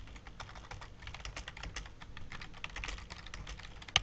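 Steady typing on a computer keyboard while a research paper is written in Google Docs, with quick, even keystrokes clattering close by throughout, without any talk.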